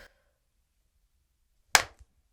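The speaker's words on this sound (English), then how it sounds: "Clap at the same time." Two people clapping their hands together at once, producing a single sharp, close clap after a moment of near silence.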